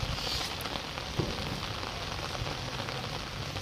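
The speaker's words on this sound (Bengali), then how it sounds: "এই জ্যৈষ্ঠ মাসের বৃষ্টির মধ্যেই কীভাবে দলবদ্ধভাবে মাছ ধরে সেই দৃশ্যই আজকে আপনাদেরকে দেখাবো" Rain pattering down steadily in the Jyoishtho monsoon season during group net fishing outdoors, a soft continuous hiss of drops on surfaces with a few closer taps, and no one speaking.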